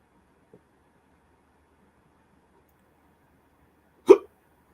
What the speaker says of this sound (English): Oh, got the hiccups.